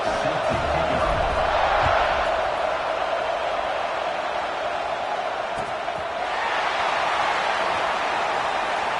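A football stadium crowd at a FAMU versus Tuskegee game roars and cheers before kickoff, a broad, continuous wash of voices that swells and holds, with a commentator talking over it.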